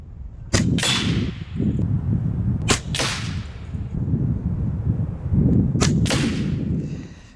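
A Taipan SLASH semi-auto PCP air rifle in .22 fires 25.39 grain pellets, giving three sharp, loud cracks spaced a couple of seconds apart, each with a brief ringing tail over steady outdoor background noise.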